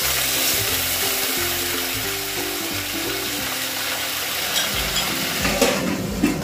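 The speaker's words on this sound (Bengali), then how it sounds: "ঢাকা দিয়ে ওটা ভাজা হোক।" Potatoes frying in a covered pan give off a steady, close sizzling hiss that runs the whole time beneath a low, droning background.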